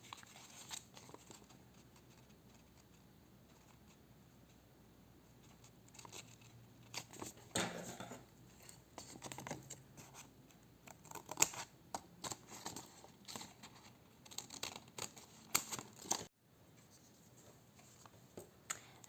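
Scissors snip through paper for a handmade junk journal, a string of short crisp cuts and paper rustles coming close and fairly soft, with brief pauses between bursts.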